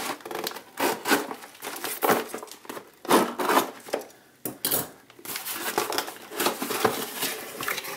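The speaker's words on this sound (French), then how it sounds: "Le colis est juste là, on va l'ouvrir ensemble." Parcel holding a cheap straight razor being opened by hand, with a series of close, loud crinkling, tearing and packaging rustles coming in uneven bursts and short pauses, no voices.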